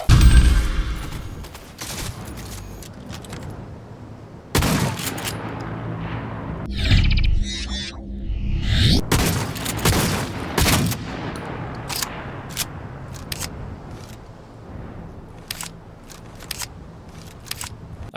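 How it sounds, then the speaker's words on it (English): Tube-fed pump-action shotgun fired in a cyberpunk first-person shooter game, loud booming blasts repeating at an irregular pace with mechanical clacks of pumping between shots, no talk. "A good old tube-fed pump-action shotgun for us here, always nice to have and feels good to shoot, even in this cyberpunk nightmare future."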